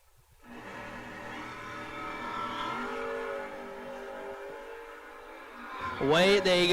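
Drag race cars, a Roadster and a Camaro, launch down the strip at a memorial race. A steady, droning engine rumble holds for several seconds, then a loud, rising rev surges near the end.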